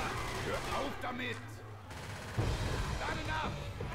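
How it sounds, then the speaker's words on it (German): Rapid short three-round bursts of gunfire from Left 4 Dead 2, a few shots each, over a steady low rumble, with someone talking intermittently in German. "Ich hab leider nur 3er-Salben mit der Scheißwaffe"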